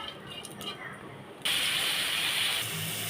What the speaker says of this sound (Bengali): এখন আমি পেঁপেটা আবার এর ভিতরে ঢেলে দিব।